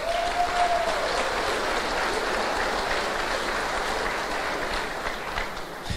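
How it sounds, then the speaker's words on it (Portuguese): Audience applause at a men's religious gathering, a dense, even wash of clapping hands that fills the whole span at steady loudness, tapering slightly toward the end, with a faint voice briefly rising near the start. "uma salva de palmas"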